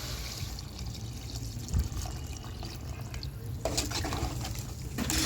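Steady rushing of water poured into a pot of cooking okra and field beans, a continuous splashing flow that grows brighter toward the end, with no voices.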